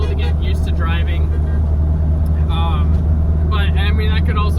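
A 2004 Subaru WRX STI with aftermarket modifications cruising, its engine holding a constant low droning rumble beneath someone talking intermittently over it.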